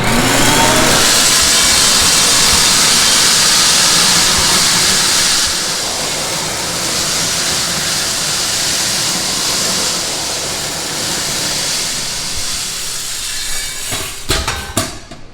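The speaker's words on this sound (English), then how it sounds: "We're going to convey green beans with a pickup lance into the coffee whisper loader." A Coffee Whisper loader conveying green coffee beans through a pickup lance for a roaster, a loud steady rushing drone of air and beans that eases slightly midway and ends with some clattering knocks.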